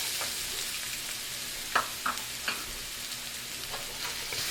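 Garlic sizzling in a preheated pan, a continuous close hiss of frying with a few sharp clicks and taps of a utensil scattered through it.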